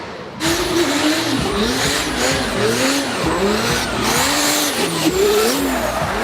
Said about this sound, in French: tout simplement qui est un V8 NASCAR compressé. Donc avec un bruit absolument magnifique